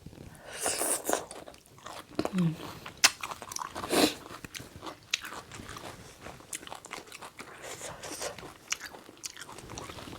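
Someone eats tilapia fish head from a curry with pickled bamboo shoots, producing close, irregular wet sucking, slurping and crunchy biting bursts that come in scattered clusters, with faint background noise between them.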